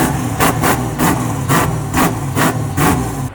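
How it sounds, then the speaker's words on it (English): Engine of a 1974 Chevy C10 truck idling close by, a loud steady rumble pulsing in an even rhythm of roughly two beats per second, with no voices over it. "Idles perfectly, extra crisp throttle response."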